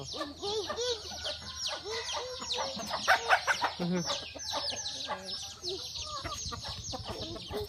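Chickens cluck around a farmyard chicken-raising area at a grandparents' home, several birds calling close by in an irregular stream while a voice talks over them.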